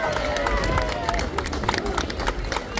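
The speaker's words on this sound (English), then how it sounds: "So a big round of applause for Fermoy Rugby Club." Crowd applause and cheering rise along the street at a St. Patrick's Day parade in Fermoy as a rugby club marches past, scattered claps mixed with outdoor crowd noise and a nearby announcer talking over it.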